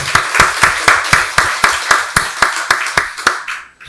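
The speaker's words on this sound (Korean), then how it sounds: "박수로 하나님께 영광 돌리겠습니다." A church congregation at a Sunday worship service claps in unison, about fourteen sharp, evenly spaced claps in a quick steady rhythm, loud and close, stopping abruptly.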